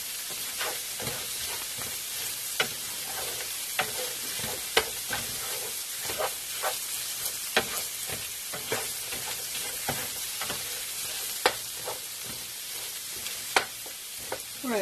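Chorizo fries in a pan for breakfast, a low steady sizzle punctuated by regular sharp scrapes and taps of a utensil stirring against the pan, close and fairly quiet.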